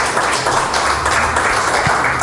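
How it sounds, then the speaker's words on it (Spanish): A church congregation applauds together in sustained, dense clapping that fills the whole moment at steady loudness, with no pauses or voices standing out. "Denle un aplauso fuerte al Señor Jesucristo"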